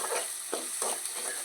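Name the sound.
onion frying in oil for pav bhaji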